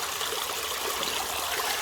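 Creek water rushes steadily through a gold sluice fitted with a dream mat and set at about eight degrees pitch, in West Virginia. The flow is close and continuous, with no voices.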